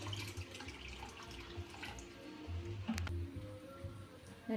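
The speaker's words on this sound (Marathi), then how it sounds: "परत त्याच्यात थोडंसं पाणी घालूया अजून" Water pours into a simmering village-style chopda fish curry spiced with home-made black masala, a soft, uneven trickle and splash close by, fairly quiet.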